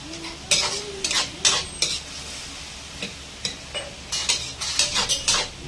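Chicken pieces going into a hot pan for kinamatisang manok, with a soft sizzle under scattered clinks and scrapes of a utensil stirring against the pan, the stirring knocks coming in irregular bursts.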